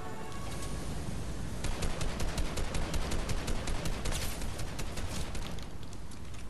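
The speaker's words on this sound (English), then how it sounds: "There's always someone freaking shooting at me, dude." Rapid gunfire rattles in a Fortnite solo match, a loud, fast string of sharp shots in quick rhythmic bursts running almost the whole time, with no talking.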